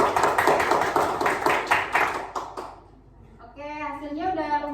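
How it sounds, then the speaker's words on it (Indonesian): A classroom applauds a student group after a decoupage fabric craft lesson, with brief close clapping under a teacher's talk before it fades into quiet, and a voice speaks again afterward. "beri tepuk tangan"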